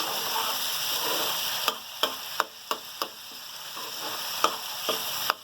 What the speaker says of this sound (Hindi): हमारा मसाला जो है ना भुनतेगा तैयार हो चुका है